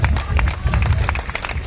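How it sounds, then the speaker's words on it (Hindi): Crowd applause welcoming a guest being honoured with a crown at a reception in Najafgarh, loud continuous clapping and crowd noise with some voices mixed in throughout. "एक बार जोरदार तालियां बजाकर उनका हार्दिक"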